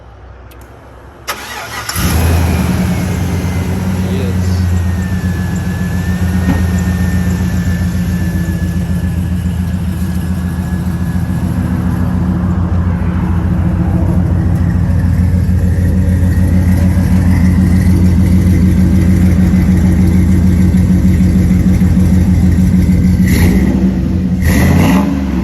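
Chevy 6.0 V8 through a Flowmaster Super 10 exhaust starts up with a sharp crank, then settles into a deep rumbling idle with blips of revving, loud and close, no talking.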